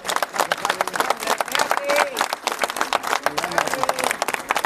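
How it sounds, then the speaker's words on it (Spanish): A crowd applauds for a young girl at a gathering outside a Buena Vista ISSSTE hospital, brisk dense clapping that rises and falls, close and loud, with voices mixed in. "les pido un verdadero caluroso aplauso para esta niña"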